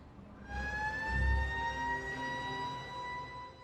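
A fire engine siren at a burning pick-up truck sounds at a distance: a faint wailing tone rises slowly and holds over a low rumble of traffic.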